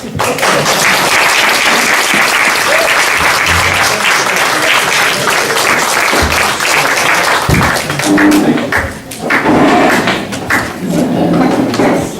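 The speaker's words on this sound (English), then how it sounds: "Now you can cheer wildly." An audience cheers and applauds at a Republican candidate forum, a loud, sustained burst of clapping and shouts that dips briefly near the end before swelling again.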